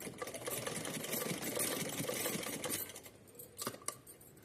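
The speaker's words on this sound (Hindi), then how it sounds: "यहाँ लटकन बनाने के लिए इस तरीके से मोड़ के हमें सिलना है" A sewing machine stitches a tassel on a small doll dress, a fast steady mechanical whir that runs for about three seconds, then stops with a few clicks and knocks, close and fairly quiet.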